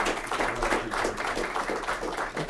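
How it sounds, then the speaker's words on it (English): Audience applause for a speaker being introduced at a talk on economics, a steady, dense wash of many hands clapping that holds at an even level throughout. "please give a round of applause to Richard Vaig"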